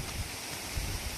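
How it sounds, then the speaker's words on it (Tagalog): Steady blustery wind roars across the microphone, with low rumbling gusts swelling and fading throughout; no voices. "Ay, kusuga sa hangin oy."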